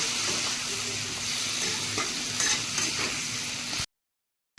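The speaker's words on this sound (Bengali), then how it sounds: "আমি এবারে আলুকে ভালো করে ভেজে নেব" Potatoes fry and sizzle in hot oil with salt and turmeric while being stirred, a steady close crackle that runs without talk and cuts off abruptly near the end.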